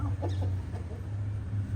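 Quiet clucking from a rooster over a steady low hum, with a few short bursts near the start and softer calls later.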